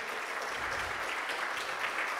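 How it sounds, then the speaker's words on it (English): Soft, distant applause from a hacker conference audience, a thin even patter of clapping lasting a couple of seconds. "Daniel, please give him big applause"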